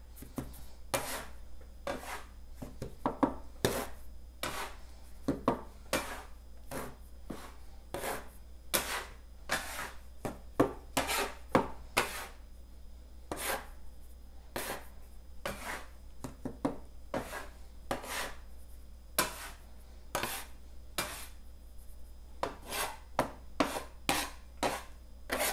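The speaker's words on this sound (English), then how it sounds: "cut 1 cup of semolina flour into that." A bench scraper cutting semolina into all-purpose flour on a work surface for ravioli dough, producing repeated short gritty scraping strokes in an uneven rhythm, close and clear over a low steady hum.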